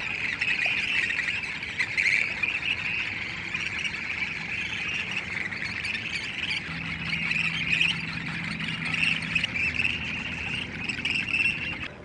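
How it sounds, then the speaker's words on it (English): Western grebes call at a tule nest on a lake shore, a steady stream of shrill, raspy squawks and chirps close by, continuing without pause. "Here's a pair of Western grebes just beginning to build a nest."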